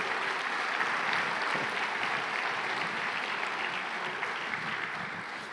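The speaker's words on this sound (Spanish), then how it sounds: "Un aplauso para Mari" A church congregation at a Sunday family service claps in steady, dense applause that stays even and fades a little toward the end, with no voices on top.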